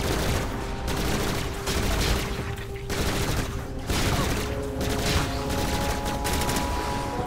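Rapid bursts of gunfire from a weapon in the video game Bombshell, loud and dense, with shots packed into continuous volleys broken by brief pauses.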